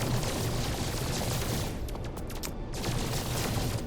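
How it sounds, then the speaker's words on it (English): A starship weapon in No Man's Sky fires in a rapid, unbroken stream, a dense, loud rattle of shots that briefly thins midway, then resumes at full intensity. "It is shooting so fast"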